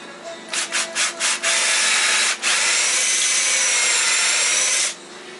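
A wrist pin bushing for a BMW R50, R51, R60, R68 or R69 is lapped with fine lapping compound, first as several short rubbing strokes and then as one long, steady, close grinding whir.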